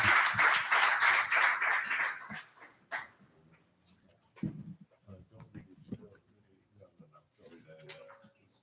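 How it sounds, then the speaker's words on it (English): A theatre audience at a small staged reading gives a round of applause, a dense burst of clapping for about two and a half seconds that fades out, followed by someone speaking. "you could give like one round of applause for all of us at once"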